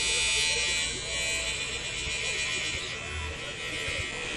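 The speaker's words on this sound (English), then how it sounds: "It's the shaving part." An electric razor buzzes steadily and close as it shaves the back of a neck during a cheap barbershop haircut, a continuous bright hum with faint talk underneath.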